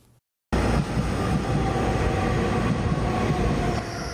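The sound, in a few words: train arriving at station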